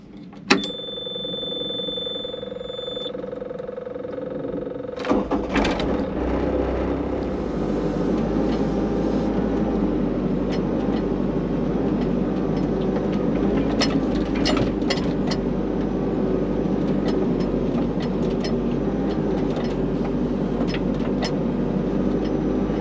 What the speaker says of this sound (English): Let's get this excavator fired up.